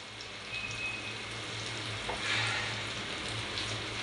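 Mackerel (bangda) fries in a pan over a raised gas flame, giving a steady, close sizzle with crackling and spitting throughout and a low hum underneath. Nobody speaks.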